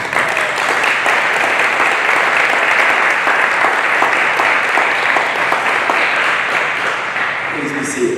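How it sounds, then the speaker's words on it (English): Sustained, dense applause from an audience at a U.S. Navy nuclear field school graduation ceremony honoring new third-class petty officers, steady and loud throughout before tapering slightly at the end. "Please join me in a round of applause for our Navy's newest third-class petty officers."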